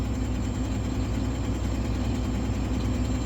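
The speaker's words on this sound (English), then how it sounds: "I started the truck and I decided it was going to do a part regen when the engine had warmed up" A semi truck's diesel engine idles steadily through a partial regen, a constant deep rumble with a faint high whine, close and unchanging, no voices.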